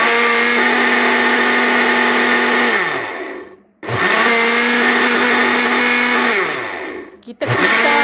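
An electric blender grinds galangal with water in loud whining bursts of about three seconds each, winding down and cutting out between runs.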